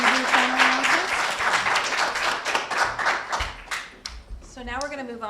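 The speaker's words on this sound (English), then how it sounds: "Can I get a big round of applause to all of our panelists?" An audience at a Stone Soup 2018 panel event gives a round of applause for the panelists: loud, dense clapping that builds, holds, then fades. Voices can be heard talking at the start and end.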